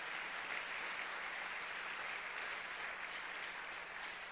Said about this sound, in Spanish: Dele un aplauso fuerte a Jesús